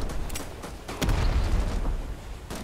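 A muffled explosion booms in the middle of a Rising Storm 2: Vietnam battle, amid ongoing gunfire-like pops and rumbling noise.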